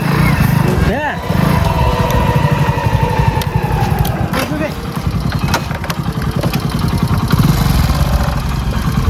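A motorcycle engine runs steadily at idle with a low rumbling throb, while people talk nearby over it.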